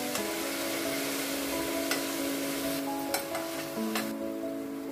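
Grated coconut fried in a pan with jaggery syrup gives a steady, close sizzle with a faint hiss and a few soft clicks of stirring throughout.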